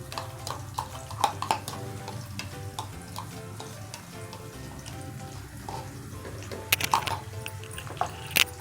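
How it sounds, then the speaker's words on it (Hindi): Ground masala with tomato puree goes into a hot pan for stuffed bitter gourd, giving a steady sizzle with wet stirring scrapes and a few sharper clacks. "अब हम इसमें डालेंगे टमाटर की प्योरी के साथ जो तमाम मसाला हमने पीसा था।"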